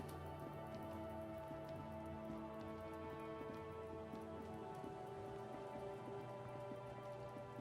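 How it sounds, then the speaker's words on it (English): Heavy rain pours steadily in the Disco Elysium video game, a dense wash of drops drumming on a surface, loud and constant throughout with a low hum underneath. "Because it's really raining very heavily. It's very noisy for me."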